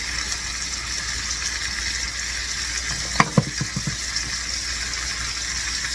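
A beef roast searing in a hot pan gives off a steady, even sizzle with no talking, interrupted midway by a short cluster of sharp clicks and knocks.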